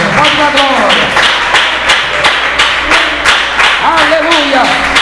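A church congregation claps in steady rhythmic praise during a worship service, loud and continuous with a singing or speaking voice running over it.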